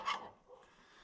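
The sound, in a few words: dog barking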